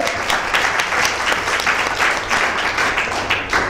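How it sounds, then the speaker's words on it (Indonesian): Audience at an Elken company sharing session in Malaysia claps steadily for a few seconds, a dense, even wash of many hands close by with no voices on top. "sama-sama kita memberikan satu tepukan untuk kita diri sendiri"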